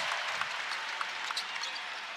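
Basketball arena crowd cheering at a Saturday afternoon Princeton vs. Kansas college men's game, a steady loud roar of applause and cheers filling the space, with faint bounce-like thumps scattered through.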